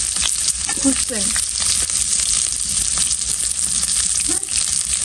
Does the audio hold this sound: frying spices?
yes